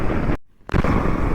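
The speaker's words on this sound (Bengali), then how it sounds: "মেসিভ সাউন্ড আসছে ভাই বাইকটার।" A motorcycle engine drones loudly during a ride, its steady rumble cut off abruptly for a short silent gap before resuming close and strong.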